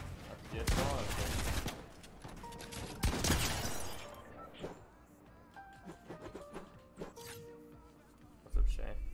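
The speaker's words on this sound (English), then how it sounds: "Who can shoot their SMG first?" SMG fire in a video game comes in a couple of short, sharp rapid bursts, fairly faint and mixed with a talking voice, followed by quieter clicks and movement.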